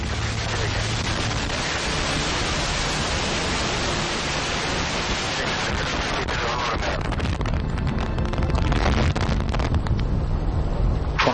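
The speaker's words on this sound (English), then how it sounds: "And liftoff of the ISS Progress 46, the 46th resupply ship to the International Space Station." Roaring, broadband rush of a rocket liftoff as ISS Progress 46 launches from Baikonur, a steady loud wall of noise with deep rumble, growing crackly and harsher toward the end, with no talk.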